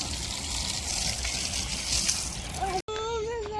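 Water gushes and splashes steadily during the watering of plants in a village yard, a close, continuous pour that stops sharply and gives way to a short bird-like whistle.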